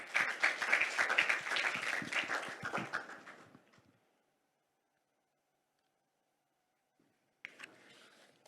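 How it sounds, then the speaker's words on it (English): A conference audience at the H2 MEET 2023 hydrogen event claps for a presenter, dense applause for about three and a half seconds before fading to near silence. A brief rustle returns near the end. "So please welcome with a big round of applause."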